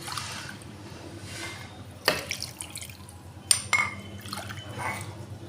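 Water poured into a blender jar over semolina, sour curd, ginger and chillies for dosa batter, a soft splashing pour with a couple of brief clinks, close and alone with no talk.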